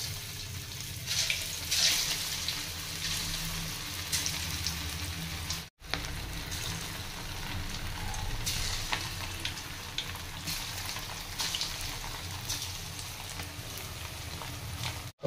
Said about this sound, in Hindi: एबा हम पकेबा चिकेन